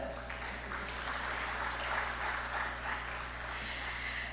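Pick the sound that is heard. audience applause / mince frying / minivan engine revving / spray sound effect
audience applause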